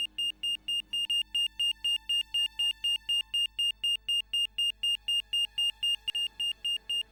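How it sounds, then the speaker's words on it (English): A steady, rapid electronic alarm from the Broken Sword video game beeps in an even pulsing rhythm throughout, likened to a heart monitor signalling cardiac arrest, clear and fairly loud with no talk over it. "What's that noise? It sounds as if someone's having a cardiac arrest."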